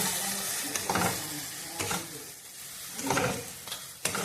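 A ginger, garlic and onion spice paste fries in a pan with a soft, steady sizzle, broken by several stirring scrapes and bursts of hissing spread across a few seconds.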